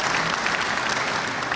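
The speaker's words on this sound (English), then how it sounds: "A warm round of applause, please, for Jennifer Kolasiewski." Sustained applause from an audience at a veterans awards ceremony, a dense steady wash of many hands clapping at even loudness throughout, with no voices standing out.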